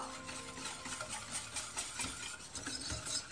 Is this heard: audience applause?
no